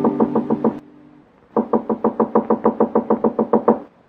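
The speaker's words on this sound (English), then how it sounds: "Come in, Hey Boy. The door's unlocked." Knuckles rap on a hotel room door in a radio drama, a quick group of about five knocks, a pause, then a longer run of loud, evenly spaced knocks close by.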